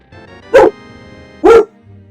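A pet dog barks twice, loud and close, with about a second between the two sharp barks and faint background hum in a quiet home.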